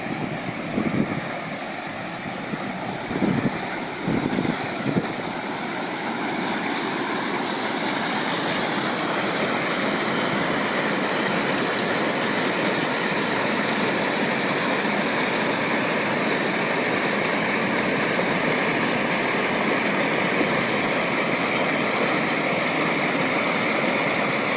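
The Dumalon River in Tulungtong, Zamboanga City rushes in a loud, steady roar of flowing water. A few faint knocks come early, then the broadband torrent continues unbroken.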